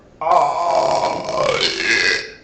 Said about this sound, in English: I want you to burp.